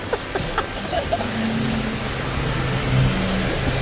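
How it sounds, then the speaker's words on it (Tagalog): Heavy rain hisses down as a constant wash of noise, with a low engine hum underneath and faint bits of sound mixed in. "inabutan tayo ng malakas na ulan"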